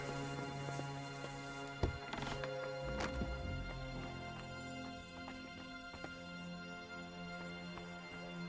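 Horses in Kingdom Come Deliverance 2, with faint hoof clip-clops and an occasional whinny set within a busy game soundscape of ambient tones and a sharp thump near the two-second mark.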